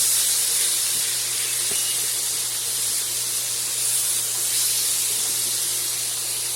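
Butter and mushrooms sizzling in a hot pan, a steady bright hiss that holds evenly throughout with no talk.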